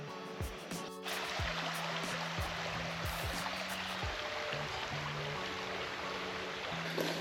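A creek running through Maryland woodland on a hot July day, with a steady, faint wash of flowing water that lasts throughout. Low tonal hums and brief sweeping sounds sit under it. No one speaks.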